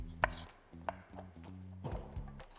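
A knife cuts herbs for chimichurri on a cutting board, producing several soft, close taps and slices in an irregular rhythm over a quiet kitchen background hum.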